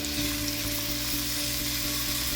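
A pot of Andhra-style raw mango fish curry sizzles and bubbles steadily and loudly, close by, with soft stirring scrapes mixed into the continuous frying hiss.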